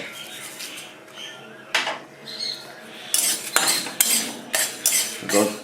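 Fenugreek, fennel and nigella seeds dry-roasting in a pan for garlic pickle, stirred with a utensil that scrapes and clinks against the metal in quick, irregular strokes, close and moderately loud with no talking.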